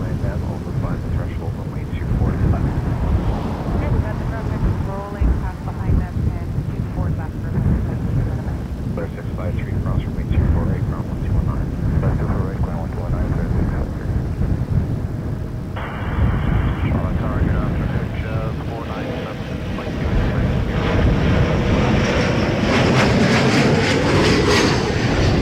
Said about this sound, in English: Jazz 628 Embraer 175. That's coming in from Charleston.